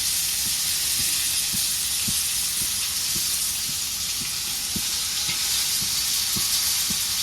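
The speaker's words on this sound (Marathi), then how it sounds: "तव्यात घ्यावं म्हणजे हे तळलं जाते" Steady frying hiss and sizzle from corn on the cob in oil on a griddle, with faint regular ticking pops repeating throughout, close and continuous without any voices.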